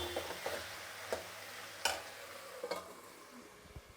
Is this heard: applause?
no